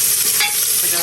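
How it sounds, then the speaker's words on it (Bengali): Chopped onions and chillies hit a hot pan with turmeric, producing a loud, dense sizzle that hisses steadily through the whole short moment, close by. "আমি এখানে যে আছে পেঁয়াজ মরিচ কাটাগুলো দিয়ে দেবো"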